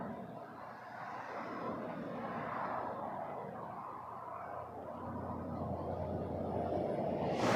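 A jet airliner taking off from runway 23 at Toronto Pearson Airport roars steadily from a distance, its broad engine noise swelling slowly and growing louder toward the end.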